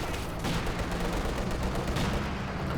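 Artillery barrage in a real-time strategy battle, fired from a captured Soviet ZiS field gun, with a dense, continuous roar of rumbling blasts and crackling impacts throughout and no talk.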